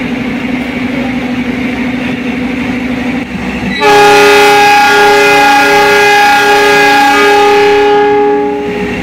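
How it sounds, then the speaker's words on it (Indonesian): The Jayakarta train departs Surabaya Gubeng station. A low rumble gives way to a loud, sustained horn blast lasting about five seconds over the rolling train. "Diberangkatkan jalur 6 stasiun Surabaya Gubeng, kereta api Jayakarta."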